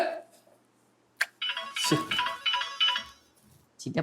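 An electronic phone ringtone plays a bright, repeating melodic pattern for a few seconds, with short bursts of other sound around it.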